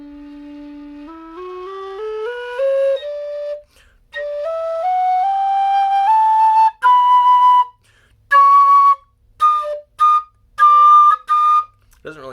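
A low whistle, a Chieftain Custom or Kerry Optima, plays a rising scale of clear sustained notes followed by a run of short separate tones, solo and close.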